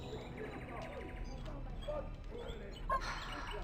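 A dog in the video game Dragon Age Origins gives faint, brief whines and a soft bark or two, set low under a steady ambient game soundscape.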